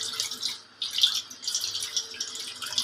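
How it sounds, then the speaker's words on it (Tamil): Water pours in short, splashy bursts into wheat flour for appam, close and clear, pausing briefly once before continuing, with no talk. "ஃபஸ்ட்டு நம்ம தண்ணி ஊற்றிக்கலாம் தேவையான அளவு."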